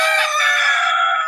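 A rooster kept at a police station crows loud and close in one sustained, strained call.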